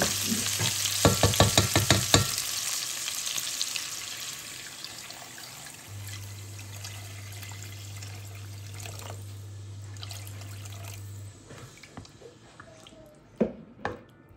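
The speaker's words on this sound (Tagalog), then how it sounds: "lalagyan na natin siya ng tubig" Water poured into a pot of pork bones for a boiled pork bone soup, starting with a loud splashing gush. Quieter sloshing, drips and small clatters follow, with no one talking.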